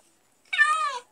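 A tamed ocelot, now a cat in Minecraft, gives a single clear meow, short and close, against silence.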